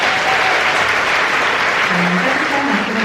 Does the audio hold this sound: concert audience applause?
yes